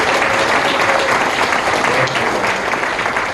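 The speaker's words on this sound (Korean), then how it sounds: "커다란 박수 한번 부탁드릴까요?" Audience applause at a Korean public forum on low birth rates and population aging in Jeju, a sustained dense wash of clapping from a large crowd, loud and even throughout.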